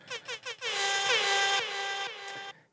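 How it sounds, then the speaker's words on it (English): An air horn gives three short toots and then one long, loud sustained blast that tapers off at the end. "Give that guy an air horn."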